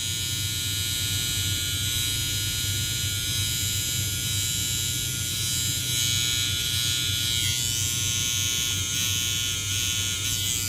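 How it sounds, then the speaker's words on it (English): Electric hair clippers buzz steadily and loudly up close while lining up a hairline, a constant motor drone with no pauses and no voices. "We ain't got to overdo the clipper work"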